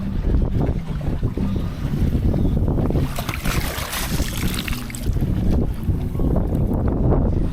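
Strong wind buffets a small gaff-rigged trailer sailer cruising at sea in roughly 15 knots, with loud, continuous gusty rumble and microphone wind noise over the hiss of water along the hull.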